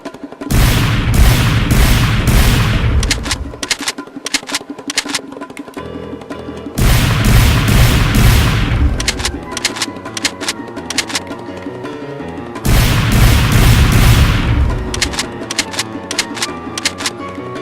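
LEGO lever-action gun built as the Team Fortress 2 Scout's weapon is test fired in three bursts of rapid, sharp plastic clicks and snaps, each burst loud and close, separated by brief quieter pauses.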